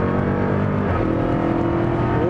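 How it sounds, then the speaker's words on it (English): A Dodge Charger Hellcat pulls hard on the Yas Marina circuit, its loud, steady engine roar overlaid by a rising supercharger whine heard from inside the car. "look at that supercharger whine"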